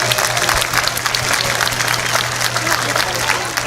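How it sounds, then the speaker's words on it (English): A crowd at an evening event at a high school football game applauds guests, a dense, steady roar of clapping that runs the whole time, loud and continuous with a low hum beneath. "Give all of these individuals a round of applause for joining us this evening."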